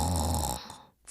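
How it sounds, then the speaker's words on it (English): A person snoring in sleep: one rough, rumbling snore fills the first half-second at close range, then trails off into a quiet breath. "My brother snores when he sleeps."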